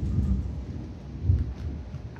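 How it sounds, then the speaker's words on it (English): Thunder rolls over a house during a thunderstorm, a continuous deep rumble swelling and easing with a louder surge midway, heard alone with faint rain beneath. "that's thunder rolling right over our house"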